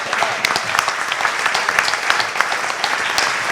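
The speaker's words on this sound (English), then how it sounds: "I reckon we should give them a round of applause too" A live audience at an activism talk claps for the questioners in a few seconds of fairly loud, busy applause, with individual claps standing out from the steady crowd texture.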